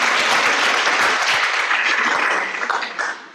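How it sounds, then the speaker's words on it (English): Conference crowd at a Master Gardeners welcome session applauds first-time attendees, loud dense clapping from many hands that holds steady and then thins and fades toward the end. "let's round of applause for the people that are first time"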